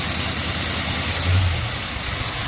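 Cold-started car engine idling at -25C right after a throttle flip, a steady low rumble that dips briefly as it settles toward a lower idle, close and alone.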